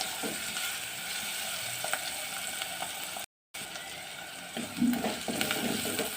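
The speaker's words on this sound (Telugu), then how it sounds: "మనకి గిన్నె బాగా వేడయ్యి వేగుతున్నాయి కదా ఇప్పుడు కొంచెం స్టవ్ని సిమ్లో పెట్టి మూత పెట్టి ఇలా నెమ్మదిగా మగ్గనిస్తే ఉల్లిపాయ వేగిపోతుందండి" Onions frying in a hot clay pot on a stove, a steady close sizzling hiss running throughout with faint stirring clinks, briefly cut out by a short gap.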